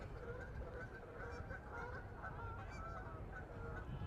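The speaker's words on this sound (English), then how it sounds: "There's an army of Canada geese over there." A large flock of Canada geese honking continuously, many overlapping calls at moderate distance, a restless chorus without pause.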